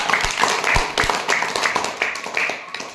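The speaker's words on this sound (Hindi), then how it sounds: "तो जोगा के लिए तालियां बजाओ" A classroom of students clapping for a classmate during a lesson on 2D and 3D shapes, a short burst of scattered hand claps with sharp low thumps, voices and chatter mixed in close by.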